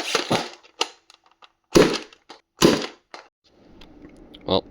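A Supermaxx 5000 Xtreme toy blaster launches a rocket, giving several sharp, close cracks and bursts with quiet gaps between them and a fainter pop near the end.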